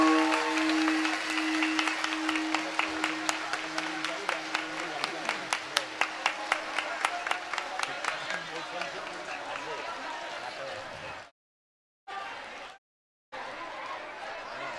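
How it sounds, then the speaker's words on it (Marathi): A seated crowd claps in unison with raised hands, making a fast, even beat of sharp claps that builds and then fades, followed by brief silences. A voice speaks during the clapping. "सर्वांनी हात वर करून टाळ्या वाजवायच्या आहे."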